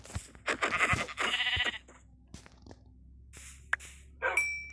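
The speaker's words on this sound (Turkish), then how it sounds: "Koyun dedi, koyun geldi." Sheep in the video game Minecraft bleat several times in quick, close bursts, followed by a quieter stretch and then a few more bleats and short game sounds.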